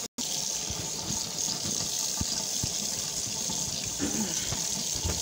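Water gushes from a tap in a steady, close rush after a brief dropout at the start, with small splashes and no talk.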